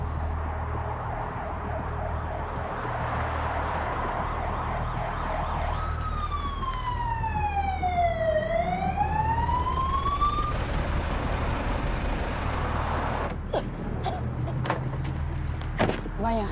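An ambulance siren wails steadily, its pitch sweeping down and back up as it draws nearer, over a constant low rumble of traffic.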